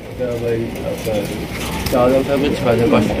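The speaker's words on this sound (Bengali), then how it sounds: "এখানে রয়েছে এক জোড়া আপনার মুন্ডি কবুতর" A pair of black Mundi pigeons coo in repeated soft, throaty rolling calls close by, with voices murmuring in the background.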